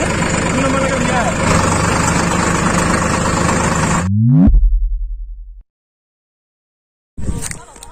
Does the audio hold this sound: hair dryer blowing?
no